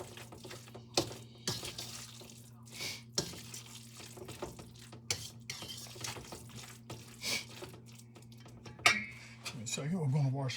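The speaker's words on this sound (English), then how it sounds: "So we're going to wash this off since I'm going to take another dip." Something rinsed under a running kitchen sink tap, with uneven splashing and water flow, scattered clinks, and a person talking over it.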